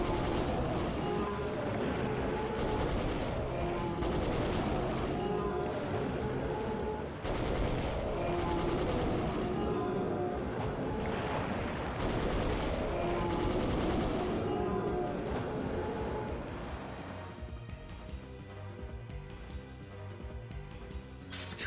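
Heavy machine gun firing continuously in Dino Crisis 2 amid a dense, loud stream of rapid shots and booming game sound, easing toward the end.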